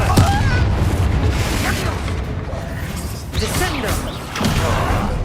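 A Confringo fire spell blasts in the video game Hogwarts Legacy, with booming, bursting impacts and mechanical rumble layered under in-game voices and effects. Loud, dense thumps arrive in several waves across the clip.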